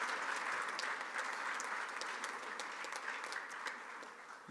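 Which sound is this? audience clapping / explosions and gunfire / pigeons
audience clapping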